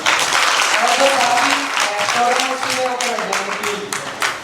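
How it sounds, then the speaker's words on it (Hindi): A crowd at a political public meeting in India claps loudly and continuously throughout, with a voice speaking over the dense applause. "एक बार अजय भाई के लिए जोरदार ताली बजाएं।"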